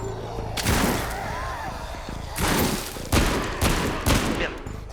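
Gunfire in the VR zombie shooter Arizona Sunshine Remake: a sharp shot, then after a pause a quick run of three or four loud reports with ringing tails, amid game noise and faint voice.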